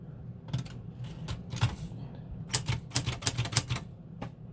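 Keys clacking on a French AZERTY manual typewriter, irregular sharp strikes in short bursts with pauses, close and crisp, no talking.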